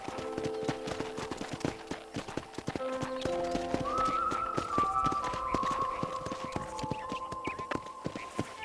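Rhythmic clip-clop of horse hooves at a steady gait on a ranch in a video game runs throughout, over soft background music with sustained tones.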